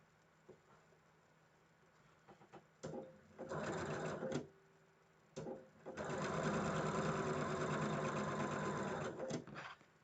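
A sewing machine stitches quilt block pairs together in short stop-start bursts of needle chatter, then one long steady run near the end, all close up.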